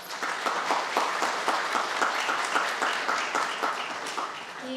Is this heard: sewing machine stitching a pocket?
no